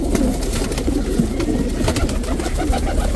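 A racing pigeon at a breeder's loft coos steadily and close by, its low, throaty calls running continuously with no talk over them.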